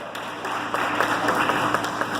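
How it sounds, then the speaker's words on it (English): Applause from a comedy club audience at a stand-up show, a dense steady wash of many hands clapping throughout, fairly loud and continuous with no break. "That was a lot of applause, right?"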